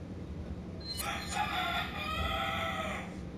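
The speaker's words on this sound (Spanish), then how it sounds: "Vaya, este gallo sí que sabe hacer algo" A rooster crows once in Resident Evil 4, a clear cock-a-doodle-doo at moderate volume over a steady low background hum.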